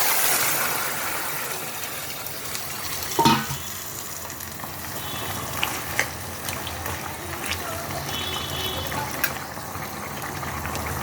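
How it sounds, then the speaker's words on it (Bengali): Boiled vegetables tipped into hot oil with tempering spices for a fish curry with thankuni leaves, giving a steady, fairly quiet sizzle with a brief louder burst near the start and faint clinks, no talk. "তেলটা গরম হয়ে গেছে, ফোড়নটা হয়ে গেছে, আমি এখন এই সবজি সিদ্ধগুলো সব দিয়ে দেব।"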